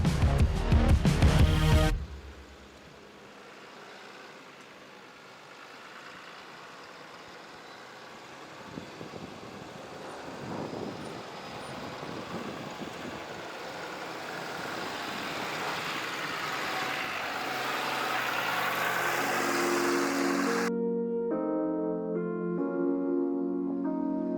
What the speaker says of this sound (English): this truck just climbs right up it with no problems at all